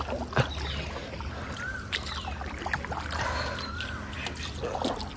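Water laps and sloshes around a small wooden boat, with soft knocks and creaks of the hull and occasional faint chirps in the background.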